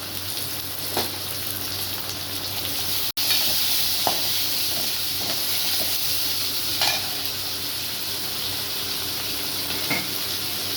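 Tomatoes dropped into a pan after mustard seeds, cumin, onion and curry leaves give a continuous close hiss of frying, steady throughout with occasional light stirring ticks and one sharp break early on.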